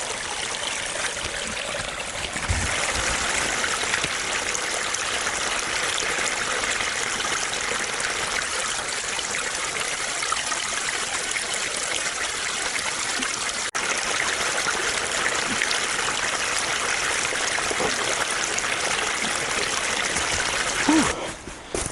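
Steady flowing spring water in cold woods, a continuous close trickle and gush running without pause for the whole stretch.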